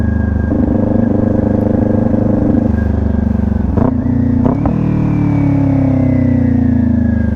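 A motorcycle downshifts with the clutch pulled in and the rider blipping the throttle to rev-match, giving a steady loud engine drone. A couple of quick revving surges and clunks come mid-clip before the pitch settles and slides lower.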